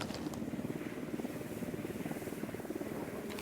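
A loaded supply helicopter in Ghost Recon Wildlands thumps along with a steady, rapid rotor beat, faint and distant, with no one talking.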